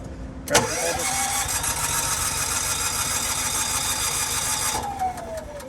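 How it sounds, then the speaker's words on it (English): A generator engine in a 2021 Forest River Wolf Pack 355 RV cranks and catches after its carburetor is primed, then runs steadily at a loud, even idle for several seconds before a brief change in pitch near the end. "Always prime the carb before you start the generator."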